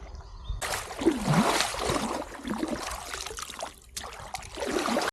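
River water flowing steadily in Attappadi, swollen after rain, a continuous broadband rush and gurgle close by, with a few splashes and brief knocks, no talking.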